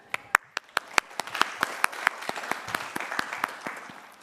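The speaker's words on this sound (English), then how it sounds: "I just want to applaud you all right now for all the firsts" Crowd applause at a university commencement: sharp claps start sparse, then thicken into steady clapping from many hands at moderate distance, with no voices over it.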